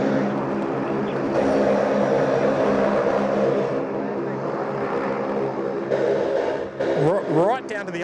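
A LATAM airliner on its takeoff roll at Sydney Airport, using almost the whole runway: a loud, sustained engine roar that swells and fades, with people talking over it.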